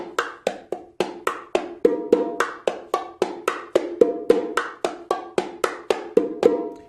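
Bongos played in a repeating pattern, quick slaps and resonant open tones with an added low note on the bigger drum, clear and close with no voices.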